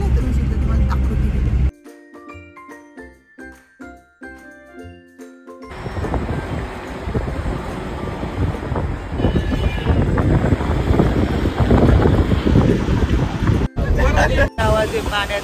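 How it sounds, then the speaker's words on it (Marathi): Clear mountain water rushes along the road from Srinagar to Sonmarg in Kashmir, a loud, steady broadband roar filling most of the clip after a short burst of noise and a brief musical passage. "आवाज ओरिजिनल आवाज आहे पाण्याचा आवाज"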